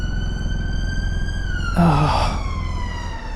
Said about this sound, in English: always sirens here.